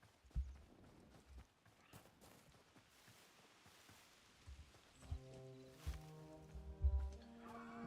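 Horses walk in the Hytale video game, soft irregular hoof clip-clops at low volume amid faint ambient patter, with a few louder thuds and a tonal game chime toward the end.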